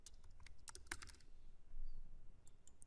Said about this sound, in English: So I'll just type in none over there.